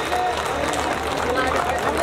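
Audience clapping at a live lucky-draw prize event: a continuous, fairly even patter of many hands, with voices mixed in.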